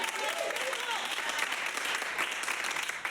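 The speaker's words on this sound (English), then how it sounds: "Big round of applause." Crowd applause at a live comedy show in Portland, a dense, continuous wash of clapping and cheering that stays steady throughout, with a few voices calling out inside it.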